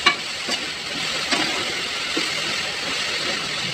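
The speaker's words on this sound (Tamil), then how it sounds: "வெங்காயம் நல்லா வணங்கிடுச்சு" Browned onions sizzle in a pan for pulikkulambu, a soft continuous frying hiss up close with a few faint clinks and scrapes and no voices.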